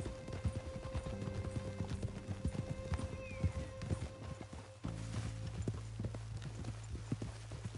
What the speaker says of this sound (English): Mount up then, Morgan.